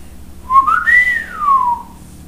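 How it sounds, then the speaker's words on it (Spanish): A single person whistles one clear, close note that slides upward, holds, then glides back down, loud against a quiet background. "Silbó el entrometido"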